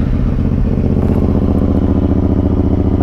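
A Honda Africa Twin motorcycle idles nearby with a loud, steady, low throbbing pulse and a faint mechanical clatter, and no voices over it.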